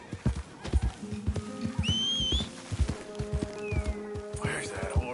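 A horse in the Red Dead Redemption 2 game whinnies and neighs amid close, rhythmic clip-clop of hooves, with a brief whistle and someone talking over the sounds.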